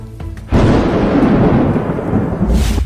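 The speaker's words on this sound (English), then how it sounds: "Outside, a torrential downpour suddenly began. Thunder rumbled across the sky." Thunder rumbling through a torrential downpour, a sudden loud roar that swells in and sustains as a deep rolling rumble over heavy rain.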